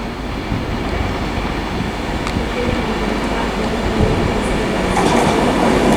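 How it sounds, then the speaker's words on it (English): A Virgin train service from London Euston pulls into Haymarket station in Edinburgh, a steady loud rumble of wheels and engine running without a break, swelling slightly toward the end. "arriving now is the slightly delayed 1613 Virgin train service from London Euston to Edinburgh"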